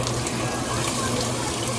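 Water runs in a steady, continuous stream, splashing and filling a cooking pot of birria nearby, with no voices.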